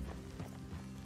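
Horse hooves clip-clop in the Red Dead Redemption 2 video game, a short run of close steady steps over a low rumbling game ambience, with no voices.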